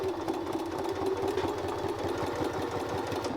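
A sewing machine runs steadily while stitching a tight curve in fabric, with no thread loaded. It makes a fast, even mechanical chatter at close range, continuous and without voices.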